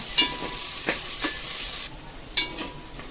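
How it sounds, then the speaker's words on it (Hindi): Chopped onion fries gently in a pan for mutton korma, with a steady sizzle and several clinking stirs of a spoon against the pot. The sizzle drops quieter partway through. "इसको हम ज़्यादा फ्राई नहीं करेंगे, ब्राउन नहीं करेंगे, हल्का फ्राई करेंगे"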